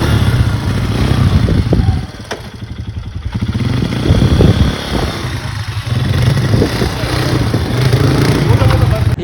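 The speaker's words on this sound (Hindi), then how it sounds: "अब हम क्वाड बाइक चलाने जा रहे हैं।" A quad bike engine runs at Magnetic Hill in Ladakh, a loud, close motor drone that rises and falls, with people talking over it.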